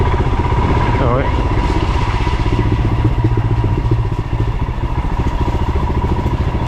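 A Royal Enfield Himalayan 411 motorcycle riding a slick, rutted trail, its engine thumping steadily and loud throughout with clattering off the rough ground.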